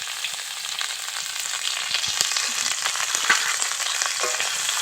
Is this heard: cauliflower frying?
yes